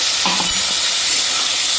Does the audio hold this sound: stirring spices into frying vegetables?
yes